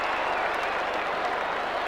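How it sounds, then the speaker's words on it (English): Football crowd in a stadium at a 1989 VFL preliminary final between Essendon and Geelong, giving steady, distant applause that forms a continuous wash of clapping, with no talk over it. "I think even the Essendon supporters are giving begrudging applause now"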